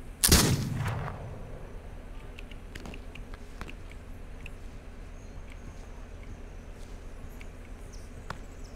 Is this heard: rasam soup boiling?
no